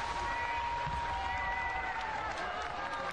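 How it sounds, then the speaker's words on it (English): Steady crowd applause and cheering for a Polish skater at a women's points race final in Wrocław, Poland, a constant wash of clapping across the whole moment under a faint commentary voice. "Now this is going to be a huge cheer"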